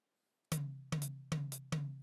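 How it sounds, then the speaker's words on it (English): Hi-hat pattern from the OctopuSequencer playing a 5-against-4 polyrhythm, heard as a quiet string of bright, crisp ticks over a sustained low tone, looping in a steady repeating cycle with no talk. "5 against 4 on the hi-hat."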